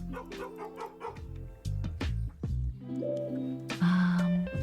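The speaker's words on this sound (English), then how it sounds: "I don't know if you can hear the very soft barks" Soft, cartoonish dog barks from the video game Nippets come in a quick series of short yips and woofs, close and clear, with no talk over them.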